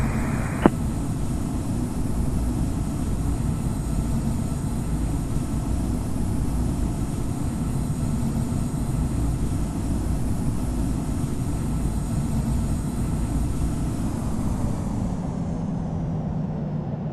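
An Airbus A350-900 in the Infinite Flight simulator rolls for takeoff, a steady broadband engine roar holding at an even, moderate level throughout with no voices over it.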